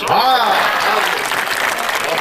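A crowd at a school event's comic poetry recital claps in a loud, steady burst, with a voice briefly over the start of the applause.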